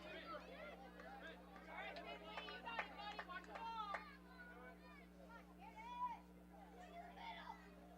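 Children shout and chatter in the stands at a Little League AA championship baseball game, a lively crowd hubbub of high young voices rising and falling over a steady low electrical hum.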